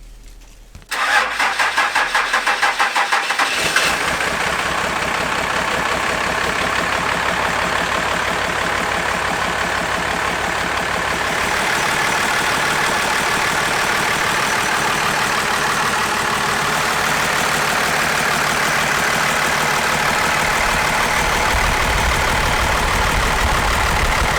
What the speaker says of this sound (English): I'm going to start this truck and I'm just going to let it climb